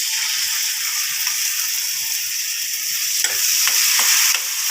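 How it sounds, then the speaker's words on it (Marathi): Onion browned to golden with ground masala paste sautéed in a pan gives a steady close sizzle, with a few stirring scrapes of a spatula near the end. "आणि वाटण घालून पण ह्याला छान परतून घ्यायचं"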